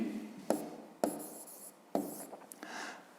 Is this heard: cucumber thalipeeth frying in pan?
no